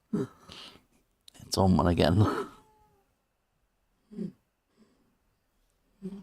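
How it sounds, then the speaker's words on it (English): A cat meows and yowls close by between short bursts of talking, with quieter sounds and a brief voice after. "Sorry if you can hear my cat in the background."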